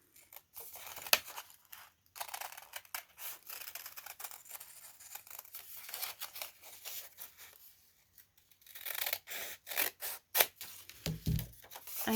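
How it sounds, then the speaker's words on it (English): Scissors snipping through a cardboard toilet paper roll to cut out craft wings, close crisp bursts of cutting in slow uneven runs separated by short pauses. "take my scissors and and cut on the drawn line of our wings"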